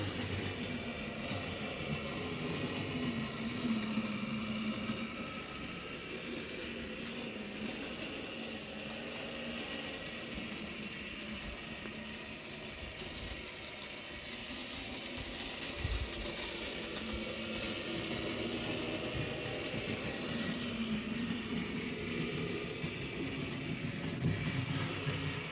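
A Class 66 model locomotive's electric motor runs steadily with a continuous mid-pitched hum, rising and falling slightly as it jerks and changes speed, close and alone without talk.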